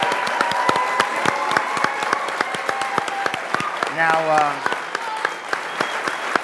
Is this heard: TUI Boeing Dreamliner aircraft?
no